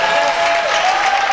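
A crowd at a basketball game applauds the seniors with dense, sustained clapping that fills the gym, loud and continuous, with a faint tone ringing underneath.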